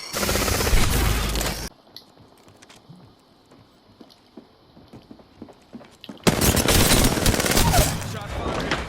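Apex Legends gunfire comes in two loud, dense bursts of rapid shots, one at the start and a longer one near the end, separated by a quieter stretch of scattered clicks and game sounds, with speech in places.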